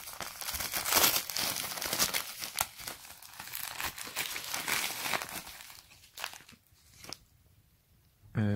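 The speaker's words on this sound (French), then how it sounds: "Alors, le paquet a fait la guerre. On va essayer à l'ouvrir." Crinkling and tearing of wrapping paper as a soft, squishy Christmas parcel is opened, with continuous close rustles and crunches that thin out and go quiet near the end before a final thump.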